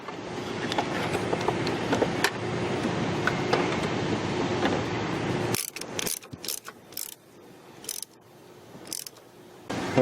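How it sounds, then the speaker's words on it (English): A hand ratchet tightening nuts on a clutch slave cylinder during clutch cylinder replacement, rapid clicking pawl over a busy mechanical background, then sharper separate clicks in the second half, close up. "Give it a little tighten with the ratchet."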